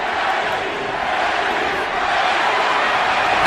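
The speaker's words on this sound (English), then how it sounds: "Pacquiao crowd chanting Manny, Manny, Manny" Boxing arena crowd at a Pacquiao versus Morales fight, thousands of fans roaring and chanting Manny in a dense, continuous wall of voices that holds steady throughout.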